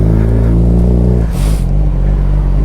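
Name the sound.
Suzuki GSXR 600 K7 motorcycle engine revving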